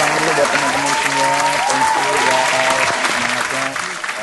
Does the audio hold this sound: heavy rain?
no